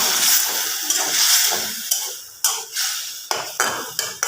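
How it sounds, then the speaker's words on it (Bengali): Spice masala hits hot oil in a wok and fries with a close, bright sizzle, joined later by several distinct clinks and scrapes of a utensil against the pan. "মশলাটাকে এখানে কড়াইয়ের মধ্যে ছেড়ে দিলাম"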